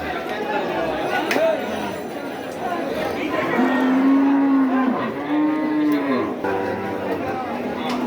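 Cattle at the Kamarkhanda cattle market give several drawn-out, close moos over a busy background of crowd chatter and people talking.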